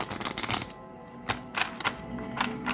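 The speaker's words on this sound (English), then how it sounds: "I'm going to give it one more shuffle." A tarot card deck being shuffled by hand, with dense riffling bursts at the start and several short flicking riffles after a pause, close and moderately quiet, with no voices.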